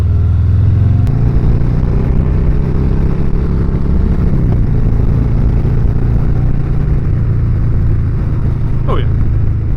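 A Harley-Davidson Softail Heritage 114, 120th Anniversary Edition, rumbles with a steady, loud low-pitched engine drone while being ridden and pulling up through the revs, heard close for the whole stretch.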